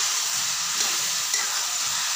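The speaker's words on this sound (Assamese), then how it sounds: "এতিয়া এইখিনি মই মছলাখিনি আৰু বিলাহীখিনিৰ লগত আলুখিনি মানে ভাজি থাকিম" Boiled potatoes frying with masala and tomatoes in a pan, an even, continuous close sizzle with no breaks and no talk.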